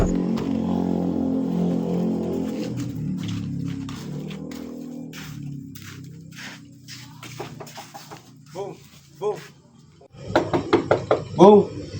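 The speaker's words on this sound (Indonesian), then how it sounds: "para perwakilan pemuda memutuskan untuk menghampiri dan mengetuk pintu rumah Soekarno" A series of sharp knocks lands on the door of Soekarno's house at midnight in a short film about the Indonesian proclamation. The knocks sound over a low droning background, and people speak afterward.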